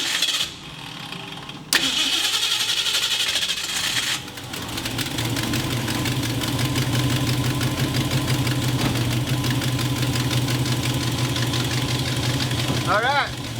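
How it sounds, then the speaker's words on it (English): Engine of a 1965-1970 Ford Mustang coupe cranks briefly, catches and settles into a loud, steady rumbling idle up close, with a few bursts of talk over it. "I'll fire it up right now and you'll see it."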